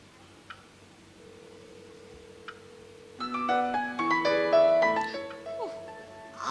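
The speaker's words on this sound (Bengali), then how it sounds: "আবার সেই একই নাম্বার থেকে ফোন আসছে" Mobile phone ringtone playing a repeated melodic tune from an incoming call, starting suddenly after near silence with faint ticks, then steady and moderately loud.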